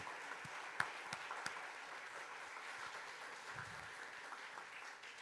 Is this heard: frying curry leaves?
no